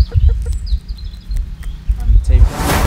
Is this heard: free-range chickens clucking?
yes